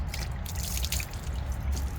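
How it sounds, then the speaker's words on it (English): Water being emptied out of a container onto the ground beside a house foundation: a short, close splashing trickle with dripping and pattering that runs evenly for about two seconds. "I'm just gonna empty out some of this water here"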